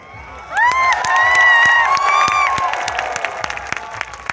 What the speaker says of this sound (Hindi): इन लोगों के धन्यवाद के लिए आप ताली बजा दीजिए